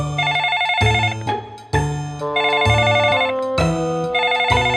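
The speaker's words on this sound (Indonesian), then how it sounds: "Berisik sekali suara telepon Yuta" Yuta's telephone rings with a repeating melodic ringtone, loud and close, cycling through the same bright phrase about three times with no voices over it.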